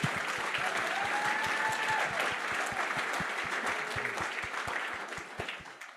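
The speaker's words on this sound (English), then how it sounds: "I just wanted the applause to settle." Audience applause at a charity benefit fireside chat, sustained crowd clapping with distinct claps throughout, gradually tapering off toward the end.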